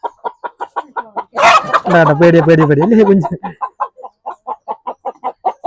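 Chickens clucking in quick, regular bursts at feeding time on a poultry farm, close and clear, while a person talks softly over them in the middle.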